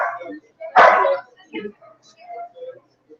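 A dog gives a single loud nearby bark in a room where a man is reading aloud from a sacred text, with speech continuing around it.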